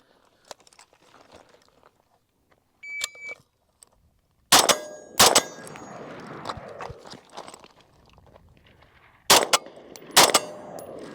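Rifle shots from an original Armalite AR-180 at an outdoor range, several loud sharp cracks in spaced pairs with quieter clanks and shuffling between them.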